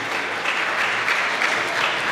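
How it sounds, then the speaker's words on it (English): Steady applause from a ceremony audience at the European Charlemagne Youth Prize in Aachen as a prize winner is named, a continuous crowd of clapping hands that holds at an even level. "A round of applause. I think we'll have to clap for quite a long time."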